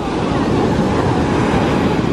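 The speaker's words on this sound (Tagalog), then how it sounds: "Pero grabe ang lakas ng alon." Strong ocean waves surge onto a clean beach in Kerala, a steady, loud broadband roar of surf with wind rumble filling the whole stretch, no distinct breaks between swells.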